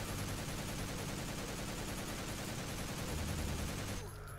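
Rapid, sustained gunfire from a weapon shooting a monster in the horror video game Paranoia, a dense unbroken burst lasting several seconds before cutting off abruptly.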